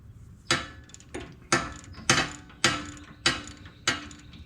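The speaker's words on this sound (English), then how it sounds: "I'm gonna get this tightened down" Ratcheting wrench tightening a nut on a Jeep Gladiator track bar, seven sharp clicking strokes in an even rhythm, close and clear with no talk.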